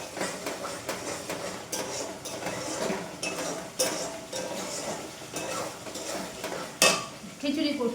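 Khichuri cooking lightly in a pot, a utensil stirring and scraping with clinks against the metal over a soft bubbling sizzle, close by and irregular.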